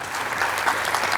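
Studio audience at a televised Georgian book quiz show claps steadily for a contestant who just scored ten correct answers, a dense even patter of applause throughout the short burst with no talking.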